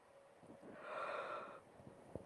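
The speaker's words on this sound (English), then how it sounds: "You might even yawn like I just did" A single long, breathy yawn swells and fades over about a second, preceded by a few soft breaths and ending with a faint click, quiet and close with no talking.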